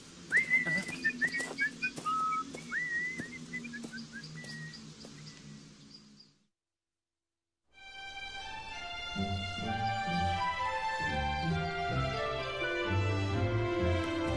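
Cheerful whistling of a tune by characters in an animated fairy tale, bright chirpy notes for about six seconds, then a brief silence and orchestral music taking over.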